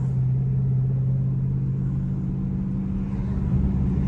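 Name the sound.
stage 2 tuned Dodge Scat Pack car accelerating hard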